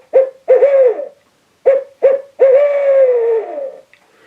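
An owl hooter used as a turkey-hunting locator call is blown to imitate a barred owl, two loud close bursts then a rhythmic series of hoots ending in a long drawn-out wavering note.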